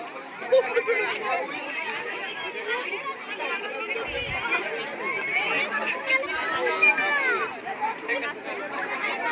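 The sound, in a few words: crowd of children at a school kids' bazaar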